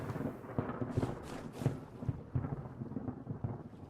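A rolling thunder rumble continues during a storm in Vintage Story, low and moderately loud, with irregular pulses and crackles under steady rain-like hiss.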